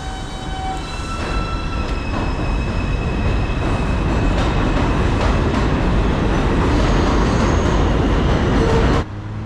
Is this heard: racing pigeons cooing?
no